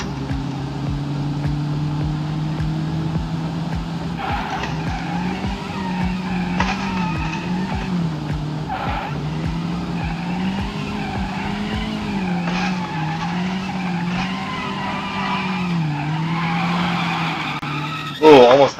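A Skoda Octavia drifting in the BeamNG driving game: a steady engine drone with sustained, wavering tyre squeal through the whole run, the engine pitch rising and falling, ending with a short loud bump.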